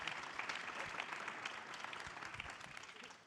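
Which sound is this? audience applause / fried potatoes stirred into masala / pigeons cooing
audience applause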